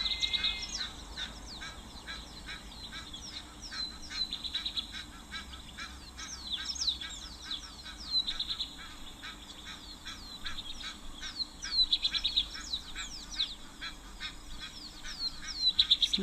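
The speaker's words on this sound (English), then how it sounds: "Egyptian geese are also joining in our little symphony of sound here." Egyptian geese honk and call repeatedly at an African waterhole, a steady, fairly faint chorus of rasping cries over quiet bush ambience.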